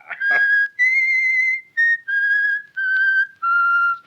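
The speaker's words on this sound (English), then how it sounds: "I can't stand that whistling, William. It's maddening." A person whistles a simple tune in a dressing room, a series of clear sustained notes with short gaps between them, loud and close, with no talking over it.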